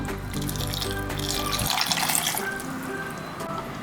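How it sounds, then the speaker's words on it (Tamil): Milk being poured into a mix of banana and honey for a peanut candy banana milkshake, a steady close liquid splashing and trickling that runs continuously without talk. "இப்போ இந்த பாலையும் இதிலே ஊற்றிடலாம்."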